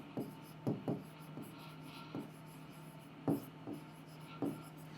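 A pen writes labels onto a plant vascular tissue diagram of phloem parenchyma during a lesson, with faint, scratchy strokes and scattered taps arriving in short irregular bursts at a low, close level.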